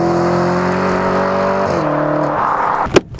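A wrecked Audi RS5 fitted with a new aftermarket exhaust revs up, its engine note holding steady and then stepping down before a sharp crackle or pop near the end, loud and close with no talking.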